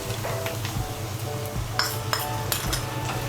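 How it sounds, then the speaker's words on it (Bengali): A spoon scrapes and clinks against a pan while a spice paste of biryani masala and ground spices is stirred for egg biryani, with a soft sizzle underneath and several sharp metallic taps toward the end. "গুঁড়ো মশলাগুলোকে ভালো করে মিশিয়ে নিয়ে আমি মশলাটাকে ভালো করে একটু কষিয়ে নেব।"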